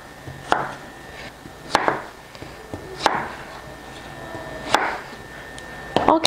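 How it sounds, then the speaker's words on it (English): A knife chops through potatoes on a cutting board in a home kitchen, five sharp separate thuds spaced about a second apart, close and clear with quiet pauses between. "I'm going to cut the first 2 bigger ones"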